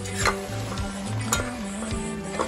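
A crab gravy is stirred in a pan, a spoon scraping and knocking against the metal in steady strokes over a continuous low sizzle, with a few sharper clinks.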